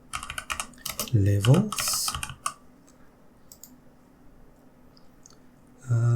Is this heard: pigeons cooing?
no